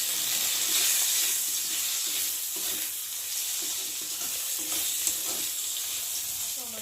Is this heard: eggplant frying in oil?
yes